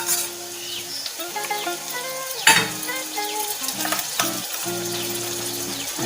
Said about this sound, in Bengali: পেঁয়াজটা বাদামি করে ভাজতে হবে। এরপর 1 চামচ রসুন বাটা দিয়ে দিলাম।